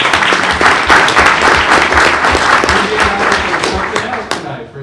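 Audience applause fills a board meeting room, dense clapping sustained at a steady loud level throughout before tapering slightly at the end, with some crowd noise mixed in.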